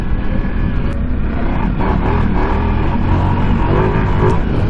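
A Ducati Multistrada V4S motorcycle engine roars steadily up close under throttle, with rough, loud revving and a constant rumble of wind and road noise.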